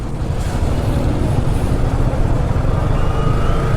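Road traffic during a sudden heavy downpour, heard from a motorcycle: a steady, loud wash of rain hiss over a continuous low rumble of engines, with no talk.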